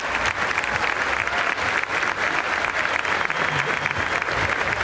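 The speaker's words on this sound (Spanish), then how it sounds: "les pido un fuerte aplauso para mi equipo de colaboradores" A crowd at a carnival comedy show in Naolinco breaks into loud, sustained applause, a dense even roar of clapping that holds throughout with faint voices mixed in.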